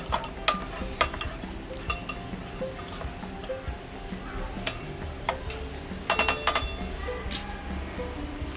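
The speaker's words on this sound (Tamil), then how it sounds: "இது எல்லாத்தையும் சேர்த்து நல்லா மிக்ஸ் பண்ணி விட்டுருக்கலாம்." Salt and masala powder stirred into a pot of mushroom soup, a steady run of light clinking and scraping taps of a spoon against the pot, fairly close and quiet, with a brief louder flurry of clinks near the end.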